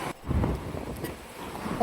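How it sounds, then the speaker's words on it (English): Steady wind buffeting a microphone outdoors, a low broadband rumble that gusts unevenly throughout. "it was quite windy this evening"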